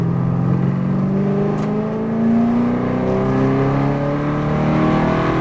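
A V8 race car engine pulls hard under full throttle on a track, its rising, steady roar climbing in pitch through the gear without a break; loud and close, with no talking.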